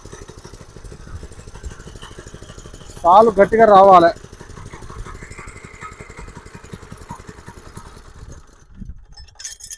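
A power weeder engine tilling a tomato field, a steady mid-pitched putter running throughout, briefly masked by a loud close shout, with someone speaking over it.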